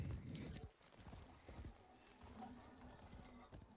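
Horse hooves in the video game Warframe, rhythmic clip-clop of a trotting horse, faint and steady under a low rumbling game soundtrack.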